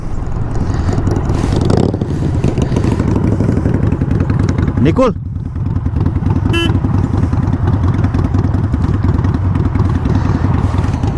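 A Harley motorcycle is ridden on a highway in Australia. The engine drones steadily and loudly throughout, mixed with rushing wind, and there is a brief clatter midway.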